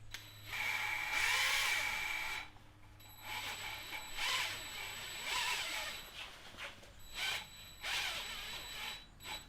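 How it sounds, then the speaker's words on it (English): A drill-powered valve lapping tool oscillates a valve against its seat in the cylinder head of a Peugeot 106 1.1 TU engine, giving three close, whining motor runs separated by short pauses. "Now you can get a drill powered version of this, which oscillates the valve backwards and forwards."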